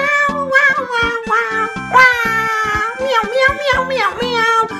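A voice, likely a father and child, imitates a cat's meow in a rapid string of repeated meows, each short and bright, loud and close, one after another with barely a pause.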